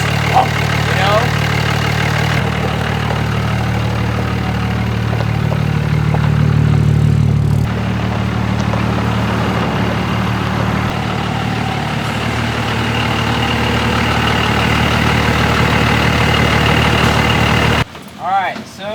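A Cummins diesel pickup truck engine idles with a loud, steady low rumble that shifts slightly midway, while people talk over it; the sound cuts off abruptly near the end.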